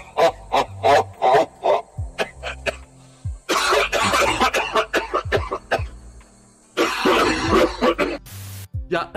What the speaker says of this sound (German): wir lachen und kriegen einen Hustenanfall